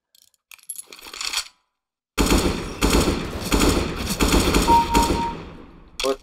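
Rapid bursts of AK-47 automatic fire in CS:GO, loud and close, chattering in several clusters over a few seconds after a brief quiet gap, with mechanical clicks at the start.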